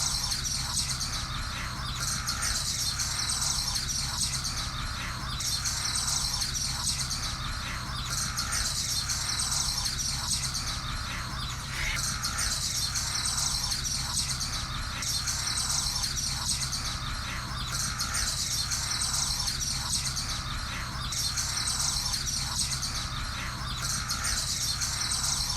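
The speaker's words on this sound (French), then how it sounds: "On entendait seulement le cri des oiseaux" Birds call steadily on a mangrove island in the Saloum Delta, with a dense, continuous chorus of chirps and squawks at a fairly even level and no voices heard.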